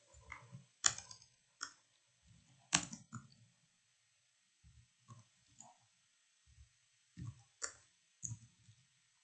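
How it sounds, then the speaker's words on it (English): Quiet, sparse mouse clicks at a computer while sending data from a database app, coming singly and in pairs with gaps of silence between them. "click on this send button"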